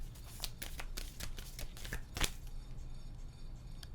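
Chakra oracle cards are shuffled by hand close up, giving a quick run of crisp riffling flicks and slaps, denser at first with one sharp snap midway, then quieter.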